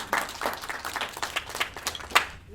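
Audience applause for a speaker being introduced at a community event on advancing affordable housing, a short burst of scattered claps at moderate level that swells briefly near the end.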